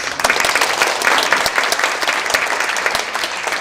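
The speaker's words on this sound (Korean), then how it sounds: "다시 한번 더 뜨거운 박수 부탁드리겠습니다" A lecture audience at the 2013 Manmin Gongdonghoe event gives a sustained round of applause, dense and steady throughout, with no voices standing out.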